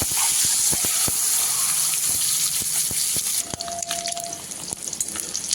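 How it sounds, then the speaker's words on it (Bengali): Eggs coated in chili powder, turmeric and salt fry in hot oil, a loud, dense hiss and crackle with sharp pops, which settles into a softer sizzle partway through. "তেল গরম হয়ে গেছে, এবার ডিমগুলো ভেজে নেব।"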